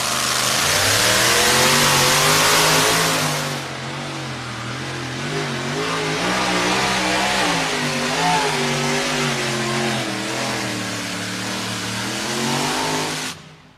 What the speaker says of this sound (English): That motor just never really came to life the way you'd like to hear it.